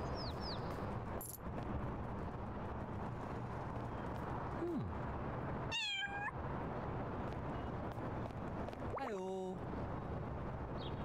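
A cartoonish cat in the video game Little Kitty Big City meows several times, short rising and falling mews spaced apart over a steady ambient game soundtrack.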